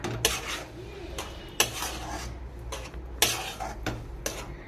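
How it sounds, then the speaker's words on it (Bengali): A spoon stirs and scrapes a semolina and potato dough mixed with nuts and raisins in a metal pan, giving repeated close scraping strokes and clinks in an irregular rhythm with no talking. "নাড়াচাড়া করে নিচ্ছি।"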